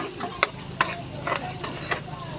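Garlic frying with onion in a pan for menudo, a quiet sizzle broken by several sharp clicks and taps of a utensil against the pan.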